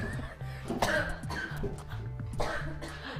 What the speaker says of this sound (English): Every time she laughs, she coughs